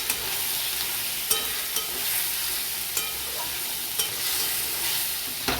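Spiced food fries in a pan with steady sizzling while a utensil stirs it, scraping several times in a loose rhythm, close and clear with no voices.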